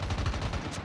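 Gunfire in a video game, heard as a brief, loud, dense burst of shots with no clear single sniper crack.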